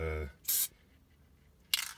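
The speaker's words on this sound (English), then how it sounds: "I'm gonna give it an upside down spray, it's out of shape, just to" A Winsor & Newton matte varnish aerosol can held upside down gives two short, sharp hissing sprays to clear the nozzle, close and distinct, with a brief voice just before the first burst.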